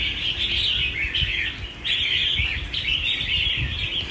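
A caged songbird, a bulbul, sings a steady, bright run of clear chirping phrases, loud and close, with no talk over it.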